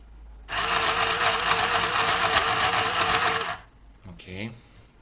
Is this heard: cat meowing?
no